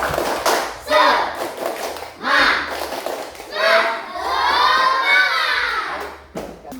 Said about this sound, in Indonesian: Kita tepuk semangat dulu supaya kelas kita menjadi lebih semangat.